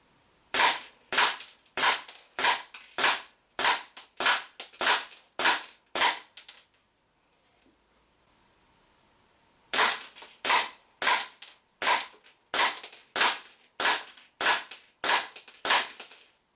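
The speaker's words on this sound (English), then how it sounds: "we're going to fire the normal M9 platform first, long M9 platform second, and this is the 10 meter accuracy test." WE M92 and long M92L gas blowback airsoft pistols firing in two strings of about ten sharp, evenly spaced cracks each, separated by a few seconds of quiet, loud and close with no talking.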